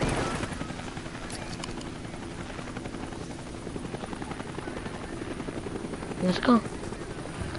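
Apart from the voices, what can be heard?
helicopter in the video game Steep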